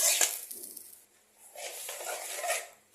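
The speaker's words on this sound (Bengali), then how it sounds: "এখন আমি এটার মধ্যে ডালটা দিয়ে দেবো।" Chana dal poured into a hot cooking pan with a metallic rattle and rush, fading briefly before a second longer pouring swell.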